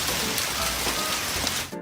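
Steady rain falling outdoors, a dense, even hiss of drops on surfaces that holds constant and then stops abruptly at the end.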